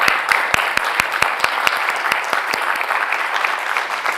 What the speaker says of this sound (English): I'm sure everyone will join me in giving them a warm round of applause for their time